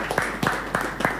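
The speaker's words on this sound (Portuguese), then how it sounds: "Uma grande salva de palmas para Ladilson Manuel." Scattered clapping for a comedian at a comedy show, in short bursts, a few hands at a time, fairly close and not very loud, with a room murmur beneath.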